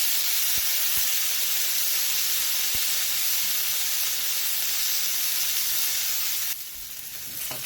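Steak frying in a pan with capsicum gives off a loud, dense, continuous sizzle, with a few sharp pops early on and the hiss easing slightly near the end.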